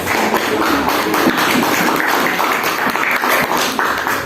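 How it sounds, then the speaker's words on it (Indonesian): An audience in a classroom teaching session claps loudly, a dense continuous burst of applause filling the whole stretch at close range with no speech. "Tepuk tangan yang keras"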